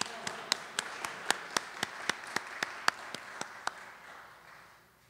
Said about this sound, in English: Join me in giving her a Moorish honor clap.